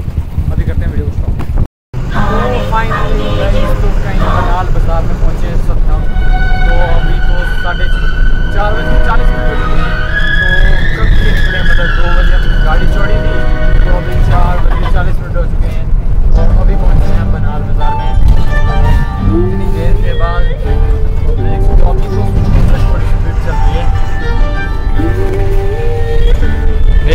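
A heavy road traffic jam in Kazigund, Kashmir: engines drone loudly and car horns blare in long, overlapping honks while someone talks over the din.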